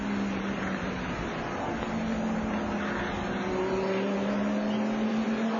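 A Dodge Viper GT race car powers through the chicane at Watkins Glen during a 1999 FIA GT race. Its engine roars in a sustained, loud drone with a slowly shifting pitch and no break in the noise.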